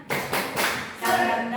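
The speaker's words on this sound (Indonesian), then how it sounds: "Kita akan bertepuk semangat." Several sharp, rhythmic hand claps of a spirited 'tepuk semangat' clapping routine done as an ice breaker, close and fairly loud, with a faint voice in the background.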